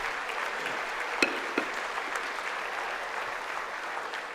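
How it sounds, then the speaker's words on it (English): A large crowd at a congressional address gives a steady, dense roar of applause and voices that may mix cheering and booing, sustained and even throughout with no gaps. "Are people booing him? I can't tell if they're booing or going like, woo"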